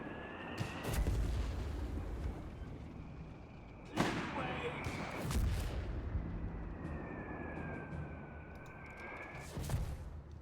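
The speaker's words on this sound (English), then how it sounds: "Mortar firing that machine gun here from the mortar half track." Mortar half-track firing in Company of Heroes 3, several heavy booming shots spaced a few seconds apart, each with a rumbling tail, while a commentator talks over the battle.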